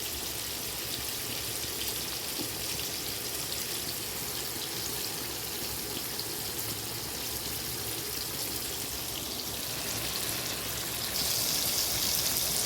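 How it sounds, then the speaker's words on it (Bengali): Fish frying in hot oil in a home kitchen gives a steady, dense sizzle that crackles evenly throughout and swells a little louder near the end, with no talking. "দিয়ে দিলাম এখানে মাছ ভাজা করতে, দেখো"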